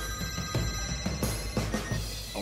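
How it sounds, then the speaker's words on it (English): Several mobile phones ring and beep together in overlapping electronic tones, repeating in short pulses at a moderate level with no speech. "As soon as their phones started ringing, beeping, and buzzing"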